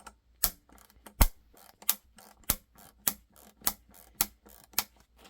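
A Pipe Vise plier driver backs out a Phillips screw with a steady series of sharp ratcheting clicks, evenly spaced and close, with faint mechanical ticking between them.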